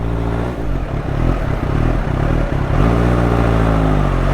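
A superbike engine idles with a dense, throaty rumble, then the throttle is blipped and the revs rise into a sustained, steady higher note, close and loud throughout.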